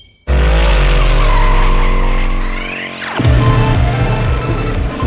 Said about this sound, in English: That's why I burned the shit out of my tires.